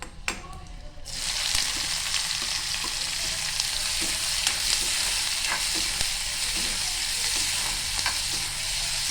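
Onion drops into a pan of oil with browned garlic and sizzles strongly, the frying swelling after a short quieter start, with regular spatula scrapes as it is stirred nearby.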